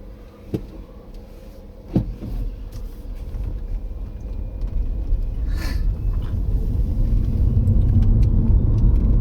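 A car drives along with a steady engine rumble and road noise that builds slightly, with a couple of small knocks and rattles inside the cabin.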